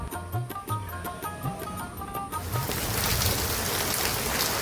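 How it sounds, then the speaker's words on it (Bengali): Heavy rain pours down steadily outdoors, a dense broadband hiss of drops striking surfaces that grows louder and fuller partway through, with a few faint tapping drips early on and no talking. "প্রচণ্ড বৃষ্টি হচ্ছে"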